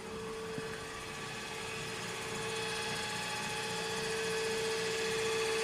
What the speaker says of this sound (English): we have wheel spin, folks